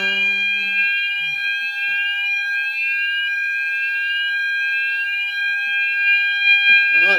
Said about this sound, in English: I like the alarm.